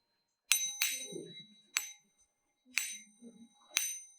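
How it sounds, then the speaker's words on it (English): Small bell-metal objects are struck about five times, each strike a bright ringing ding that decays quickly, separated by short pauses, with faint low rumbles in between. "You hear it ring? Yeah? These are bell metal."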